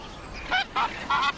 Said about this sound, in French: Les cygnes tuberculés nés cette année sont maintenant aussi grands que leurs parents.